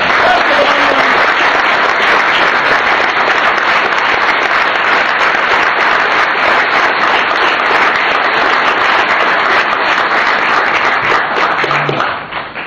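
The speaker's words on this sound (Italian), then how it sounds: "Questo applauso è un grazie." Long, loud applause from a crowd at a civic list presentation for a mayoral campaign, dense clapping that stays steady for about twelve seconds and then fades out briefly at the end.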